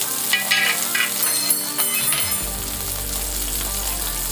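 Shallots, green chillies and garlic sautéing in hot oil for a peanut chutney, a steady bright sizzle with light clinks of stirring, no talk.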